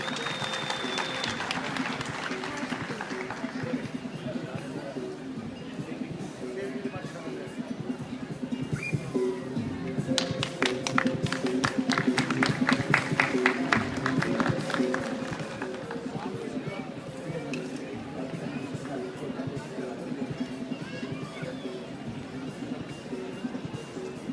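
Audience applause for volunteers at the 5th Keçiören International Ramadan Events, a steady crowd clapping that swells around the middle with dense rapid claps, then continues more softly beneath voices over a PA.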